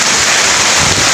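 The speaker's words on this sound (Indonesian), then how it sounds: "Dan kalian tengok, hujan beneran hujan." Heavy rain pours down outdoors around a house, a loud, steady broadband hiss with no break and a gusty, windy edge, heard alone without voices.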